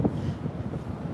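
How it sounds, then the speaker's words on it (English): Cold outdoor wind in Washington, DC buffeting a microphone as a steady low rumble, close and fairly loud, with no speech. "it's windy. So today and tomorrow"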